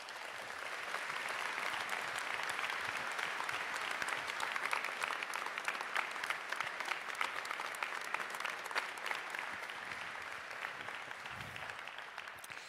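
An audience at a civic New Year's address applauds local associations and volunteers with long, even, dense clapping that stays strong throughout, crowd-wide and unaccompanied by speech.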